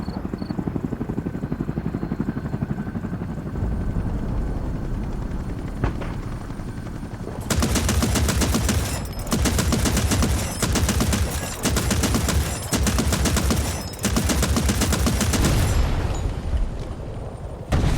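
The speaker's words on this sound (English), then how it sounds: "enter the AA gun and shoot down the enemy chopper" Anti-aircraft gun firing at an enemy helicopter in the Hell Let Loose: Vietnam video game: a steady helicopter rotor drone, then long, loud bursts of rapid automatic cannon fire in repeated volleys with short pauses.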